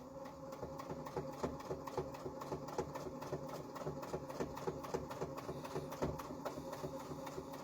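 A domestic sewing machine stitches a miniature quilt block, its needle ticking in a fast, even mechanical rhythm over a soft motor whir, close but quiet.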